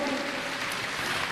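A large devotional gathering at a Hanuman Janmotsav bhajan program bursts into loud, sustained applause, a dense crowd-wide clatter of clapping filling the whole moment.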